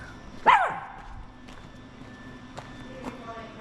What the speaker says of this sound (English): Do you have any idea what you're barking at?